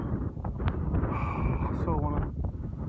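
Wind gusting across a foggy mountain ridge at Striding Edge on Helvellyn, a steady loud rumbling buffet on the microphone, with a faint voice and brief tonal sounds partly heard beneath it.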